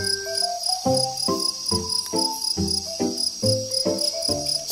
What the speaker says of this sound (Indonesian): Jangkrik adalah omnivora, dikenal dengan suaranya yang khas yang dihasilkan oleh jangkrik jantan.